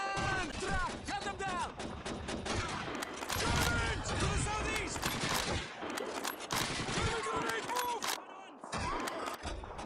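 Rapid rifle fire from the M1 Garand in the World War II shooter Call of Duty 2, with a dense, loud run of close shots and battle noise, the clip ejecting with its ping.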